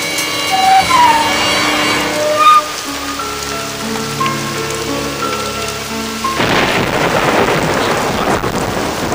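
Heavy rain pours steadily through a thunderstorm, with a loud thunder crack partway through and dense, hissing rainfall continuing throughout, without speech.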